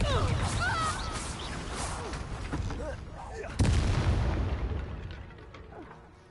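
Confringo explosive spell blasting in the Hogwarts Legacy video game, a sharp, loud boom partway through amid busy game combat sounds, fading away afterward.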